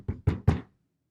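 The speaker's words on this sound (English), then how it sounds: "He knocked on the door." Someone raps three times on a door in fast succession, the blows getting slightly louder, each a dull, resonant thump heard up close, followed by quiet.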